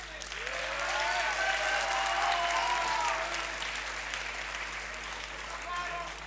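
Studio audience applause at a talk show taping, a dense sustained clatter of many hands that swells and holds, then eases slightly while people talk over it.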